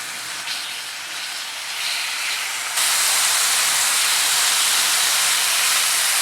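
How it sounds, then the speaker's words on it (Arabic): Chicken pieces fry in oil in a pan over high heat, a loud, steady broadband sizzle that grows louder partway through and continues unbroken, with no talk. "في طاوة نحط زيت ونحط الدجاج على نار عالية"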